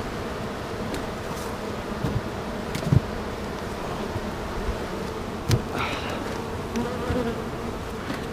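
Honeybees buzzing around an open beehive during an inspection, a steady close drone of many insects with a few light knocks and bumps of equipment.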